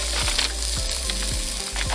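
Sausage sizzles loudly in a pan on a camp stove, a dense continuous crackle close by, with a few brief low knocks of a spatula scattered through it.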